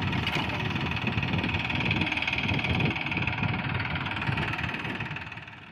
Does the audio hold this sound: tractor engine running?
yes